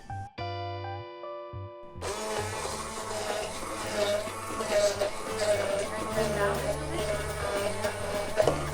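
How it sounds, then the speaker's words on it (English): An electric blender starts whirring at about two seconds and runs steadily, blending ingredients with extra virgin olive oil for a gourmet Greek salad, loud and continuous under background music. "And we blend."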